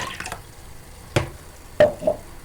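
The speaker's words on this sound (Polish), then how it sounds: "Do miski wlewam żurek," Żurek, a Polish sour rye soup, is poured into a bowl in a few short, close splashes and drips with pauses between them.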